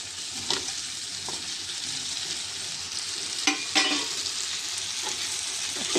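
Frying fish in a hot pan with steady sizzling throughout and a few sharp scraping stirs from a utensil, close and loud, with no voices.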